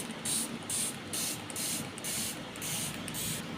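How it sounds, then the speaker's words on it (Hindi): Rose water or cold water sprayed onto skin after waxing, a quick series of about seven short, crisp hissing spray bursts in a steady rhythm, close up and alone. "तो अब वैक्स के बाद ना अपना स्प्रे करेंगे।"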